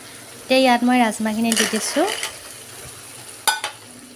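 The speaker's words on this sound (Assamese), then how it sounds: "এতিয়া ইয়াত মই ৰাজমাখিনি দি দিম।" Kidney beans are tipped into sizzling spiced oil for rajma masala and stirred, giving a steady frying hiss with scraping stirs and a sharp clatter near the end, under a woman's close, clear speech.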